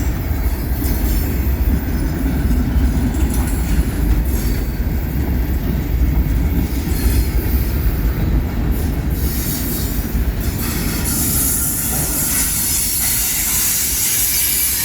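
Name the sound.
old Florida East Coast locomotives hauling a train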